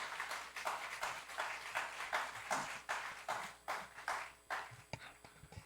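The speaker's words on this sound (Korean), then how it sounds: "나오실 때 우리 박수로 환영하겠습니다" A chapel service audience at a Korean university claps to welcome a speaker to the podium, a dense spread of many hands applauding steadily in a large room, with no talking over it.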